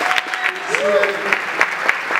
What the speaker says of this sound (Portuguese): Então, por favor, uma salva de palmas para o Luiz Carlos.